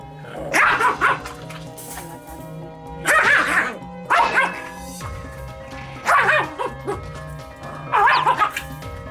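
A Maltese dog barks and growls in repeated sharp bursts, about five clusters of yappy barks separated by short pauses, close and loud, with low growling between them.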